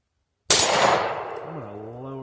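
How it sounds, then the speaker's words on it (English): A single loud gunshot cracks out at night, its report ringing and decaying over about two seconds. "going to put a magazine downrange with that"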